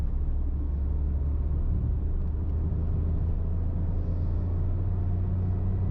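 A 2022 Tata Tiago CNG hatchback running on petrol in third gear gives a steady low engine drone and road rumble from inside the cabin, with no talk.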